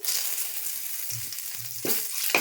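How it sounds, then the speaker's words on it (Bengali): Cumin seeds, dried chillies and leaves crackle and sizzle in hot oil, a steady close frying hiss with sharper pops and bursts toward the end; no one speaks. "তেল গরম হয়ে গেছে, আমি জিরা ফোড়ন দিচ্ছি, শুকনো লঙ্কা দিচ্ছি, পাতা দিচ্ছি"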